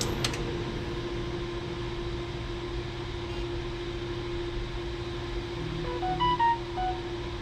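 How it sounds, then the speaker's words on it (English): A phone near a running milling machine chimes a short run of tonal notes as a text arrives, the beeps rising over steady fan-like machine hum late in the clip. "that's my phone getting the first test message that says we were on."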